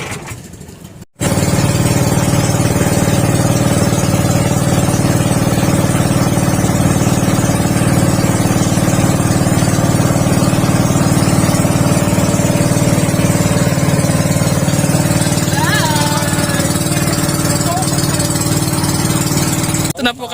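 A motorcycle engine running steadily during a town fiesta outing in Pagsanghan, a loud continuous drone after a brief lull at the start, with wind and road rumble and no pauses.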